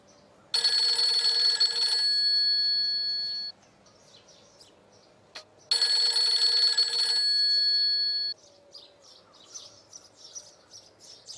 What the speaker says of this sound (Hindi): शायान का ही फोन है।